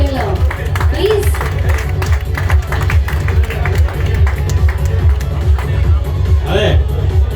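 A crowd applauds award winners at a celebrity excellence award event with a fashion ramp show on a cruise ship. Steady, dense clapping runs throughout, mixed with loud crowd chatter and voices.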